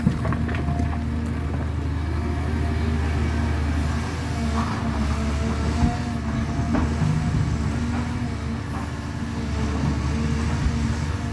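Caterpillar CAT 323 excavator diesel engine running on a morning warm-up, a steady low rumbling drone with a constant hum throughout, fairly close and unbroken.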